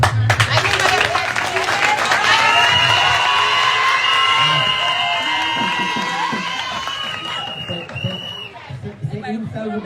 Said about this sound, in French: D'applaudissements mérités, vraiment.